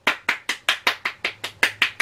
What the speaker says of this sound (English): Real Rush Golf Clap of the Week